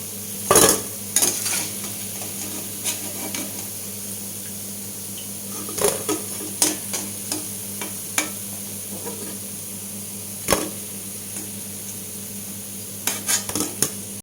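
Bottle gourd koftas fry in hot oil, a low steady sizzle with scattered clinks and knocks of a utensil against the pan and bowl, spaced irregularly, with no one talking.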